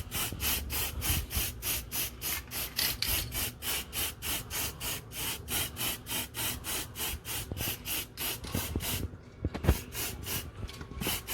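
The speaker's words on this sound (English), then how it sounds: "start spray painting the rest of that" A spray paint can coats the bottom of a glass mason jar up close, giving a long run of rapid, evenly spaced hissing bursts with a short pause near the end.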